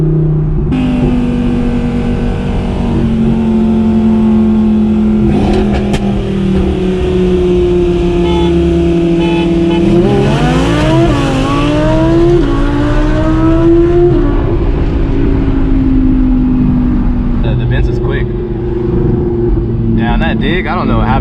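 A 1000whp twin-turbo Lamborghini Huracán Super Trofeo accelerates hard from a roll, its engine droning loud and close with a rising pitch sweep midway as it shifts into second, roaring steadily throughout.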